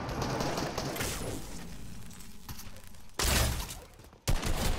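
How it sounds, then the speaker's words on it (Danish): Gunfire in the video game Fortnite, dense bursts of loud shots and crackling impacts filling the clip, with a sharp burst near the end. "Skud."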